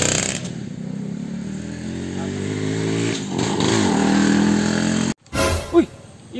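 Motorcycle engine at the start of a race, a close, loud, steady revving drone that surges and rises before cutting off abruptly, followed by brief sputters and a voice.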